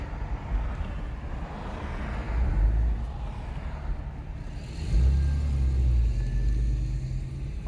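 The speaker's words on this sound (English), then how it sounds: "also want the car to sound good and drive it a wee bit fast. Hope you can hear that." A Porsche 997 Gemballa Avalanche tribute revs while driving on the road, a low engine rumble that swells twice over a steady cabin drone, moderately quiet with no talk.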